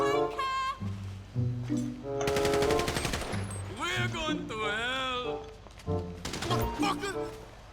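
Automatic gunfire from zombie shootouts in GTA V, rapid dense bursts of shots heard up close, overlapping with animated talking and game sounds throughout.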